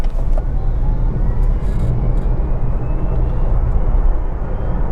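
An MG Comet EV electric car pulls away at full throttle, giving a steady rumble of road and cabin noise with a thin, rising motor whine that climbs over several seconds.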